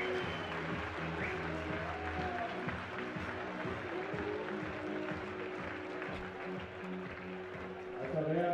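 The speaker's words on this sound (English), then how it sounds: "The crowd just went insane then." Spectators at the 2013 IFSC bouldering World Cup semi-finals in Innsbruck roar and applaud in a sustained, dense wall of cheering, with a commentator talking over the crowd throughout.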